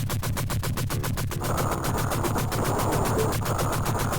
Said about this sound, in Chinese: 你看这些小兵开枪真的不知道在打谁